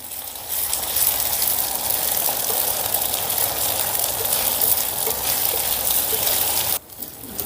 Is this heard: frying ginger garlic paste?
yes